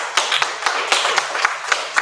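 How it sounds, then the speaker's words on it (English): Scattered audience members at an arts showcase clap in sparse, distinct claps at an uneven rhythm, fairly close, with a low steady hum beneath. "So clap it up for yourself"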